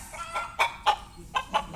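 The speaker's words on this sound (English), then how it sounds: "the farmyard chickens" Farmyard chickens cluck in short, close bursts played back as a recording, several rapid clucks at an uneven rhythm, fairly loud, with no speech.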